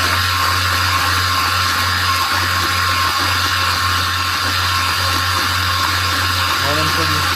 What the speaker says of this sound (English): That's full throttle right now.